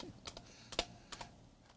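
Clicky keys on a computer keyboard during a server motherboard setup, a few sharp, close keystrokes tapped in a short irregular burst in an otherwise quiet room.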